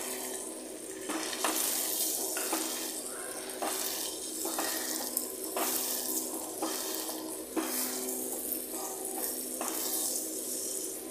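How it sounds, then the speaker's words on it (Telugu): Turmeric, salt and other ingredients fry in hot oil for a fenugreek-seed dal, giving a steady, close sizzle with scattered scraping stir strokes throughout and no talking. "మొత్తం అన్ని ఇంగ్రీడియంట్స్ యాడ్ చేసిన తర్వాత ఒక 2 or 3 మినిట్స్ ఆయిల్లోనే ఫ్రై చేసుకోవాలండి"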